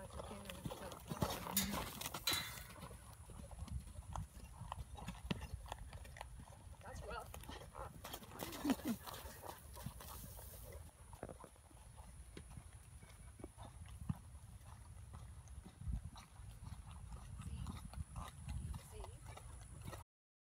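A horse's hooves clip-clop steadily at close range, a continuous rhythmic patter of strikes running throughout, while people talk over it at times.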